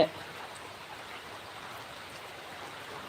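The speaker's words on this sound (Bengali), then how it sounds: "গ্রামের বাড়িতে বৃষ্টি হচ্ছে" Rain falls steadily at a village home, a faint, even hiss of drops with no distinct rhythm, continuous and soft throughout.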